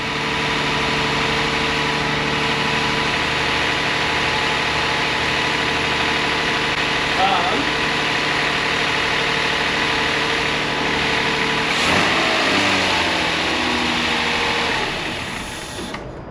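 A Toyota 4Runner engine idles steadily and close by, with a constant hum and a couple of brief rev changes before easing off at the end.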